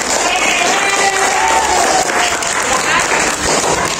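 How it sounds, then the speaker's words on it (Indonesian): Audience applause in a school classroom for a student during a lesson on the Pancasila student profile, a steady dense clapping that fills the whole stretch at full loudness with faint voices mixed in. "Tepuk tangan untuk Nadine"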